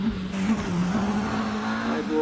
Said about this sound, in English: launch control engine note.